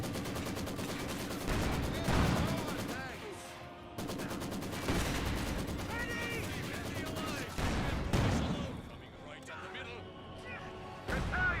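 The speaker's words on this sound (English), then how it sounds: "Maxim firing away, wipes out that squad there." Maxim machine gun fire from Company of Heroes 2, rattling in repeated bursts amid game battle noise while a commentator talks over it throughout.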